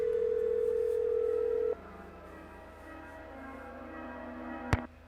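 In a Nancy Drew video game, a telephone dial tone hums steadily for over a second, cuts off, then a faint line hiss follows before a single sharp beep near the end.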